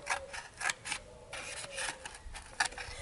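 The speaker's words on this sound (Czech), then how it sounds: "začneme stříhat proložku" Scissors snipping through the divider of a cardboard egg carton, a series of short crisp cuts close up, irregular and unhurried, with no talking.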